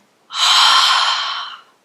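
A single Ujjayi pranayama breath drawn in through the nose with the back of the throat constricted, a close, loud, steady hiss lasting about a second and a half.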